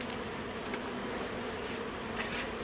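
Honeybees swarm densely around an opened hive with several added supers, producing a continuous, loud, close buzzing drone with no pauses and no voices.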